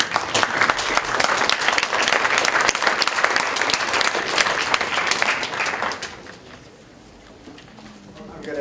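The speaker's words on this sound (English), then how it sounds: "I'm going to ask that we hold applause until the end so that we don't get into an applause competition" Loud, sustained audience applause fills a hall after a speaker's turn in a debate on Obamacare, dense clapping for about six seconds before fading to a quieter murmur.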